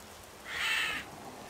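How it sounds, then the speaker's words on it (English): Crows cawing in the video game Gothic 2, a single raspy call rising out of quiet ambient background and fading after about half a second, fairly close and clear. "the crows."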